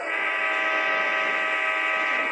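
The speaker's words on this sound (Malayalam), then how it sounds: "ഈ ഹോൺ അടിക്കാം." The Choo Choo Charles video game sounds a long, steady train horn, a loud sustained chord-like blast that holds unbroken for the whole stretch.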